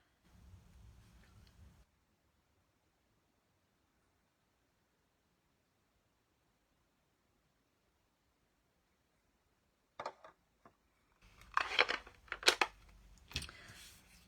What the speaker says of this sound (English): I'm just going to snip that a little bit shorter